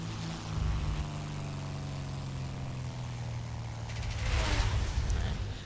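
FW 190 D13 fighter plane diving in the War Thunder video game, a steady loud propeller engine drone with a low throbbing hum that swells near the end, with no talk.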